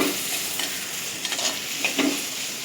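Finely chopped tomatoes sauté in a clay pot while fish curry is prepared, giving a soft, continuous sizzle. A few faint stirring clinks sound near the end.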